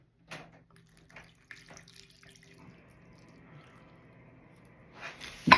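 Water trickles and splashes quietly into a sourdough starter container, a few soft drips and a short pour, ending with a louder splash.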